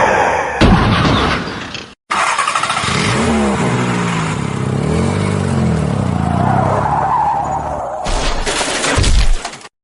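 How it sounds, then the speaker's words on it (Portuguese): A burst like an explosion, then screeching tire skids and a run of car crashes with shattering impacts, loud and close, layered into a dramatic sequence. "ouviram um estouro, derrapagens e várias batidas de carro"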